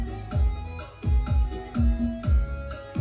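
Music with a punchy kick drum thumping in a regular beat and thinner, quieter upper instruments, played with a Technics SH-9033P equalizer switched off.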